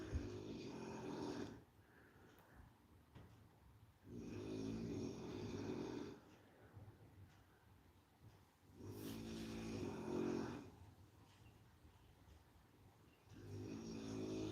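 Someone snores steadily in the background, with slow rhythmic breaths repeating about every four seconds, soft and muffled.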